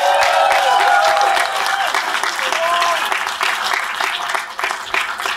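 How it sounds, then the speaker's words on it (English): An audience at a hacker conference in San Francisco applauds together, a dense, steady wash of close clapping that holds for about five seconds and thins slightly near the end. "Everyone clap for everyone that's watching the live stream."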